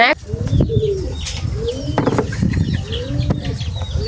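Pigeons coo repeatedly in soft rising-and-falling phrases at close range, with a few clucks and chirps from other fowl and human voices murmuring in the background at a household gathering.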